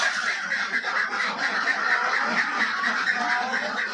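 On a duck farm, a flock of ducks keeps up a dense, continuous chorus of overlapping quacks at moderate distance, with no speech.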